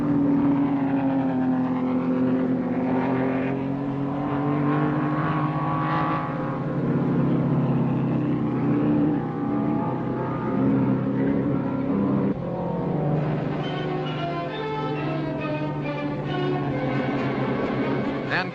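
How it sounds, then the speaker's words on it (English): Cooper racing car, a relatively low-powered British car, driving at speed in a 1962 film, with a loud, continuous engine drone shifting in pitch as it accelerates and passes, heard throughout with no talk. "the Cooper, a relatively low-powered British car with the behaviour of a thoroughbred"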